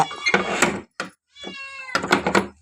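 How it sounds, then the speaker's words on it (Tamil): Domestic cat meowing near a house's downstairs door, several insistent meows in bursts separated by brief pauses, close and clear, with a light knock or thump between calls. "பூனை வேறு கத்திக்கிட்டே இருக்குங்க ஃப்ரெண்ட்ஸ்"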